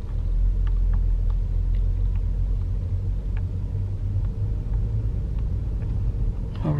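A car idles and rolls slowly across an empty parking lot, a steady low rumble from inside the cabin with faint ticking clicks over it.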